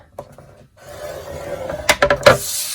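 Paper card being scored with a tool while making a scallop top box, giving a few short scraping, rubbing strokes close up that grow louder and more distinct toward the end, with no talking.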